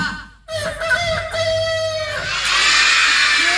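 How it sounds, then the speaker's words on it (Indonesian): A chicken clucks and a rooster crows in one loud, close burst of a few seconds, with a rough, noisy tail toward the end and no talking. "Ayam."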